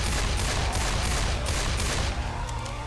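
Shooting at a zombie in Left 4 Dead 2, a loud, close, continuous burst of rapid gunshots that rattles steadily for the whole stretch.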